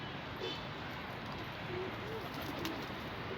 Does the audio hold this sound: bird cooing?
yes